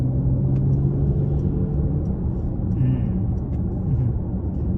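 A Mercedes GLE 53 AMG Coupe with the 435-horsepower M256 engine accelerates gently to overtake in comfort mode. From inside the cabin it is a steady low engine and road rumble at an even level, with no sharp revving.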